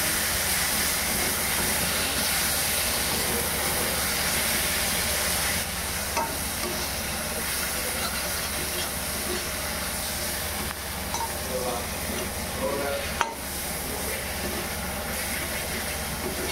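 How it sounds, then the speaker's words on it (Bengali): Pork curry masala with ground chilli paste frying in a pan, a steady close sizzle running throughout with faint stirring scrapes and no speech. "এখন আবার ভাজি করে নেব।"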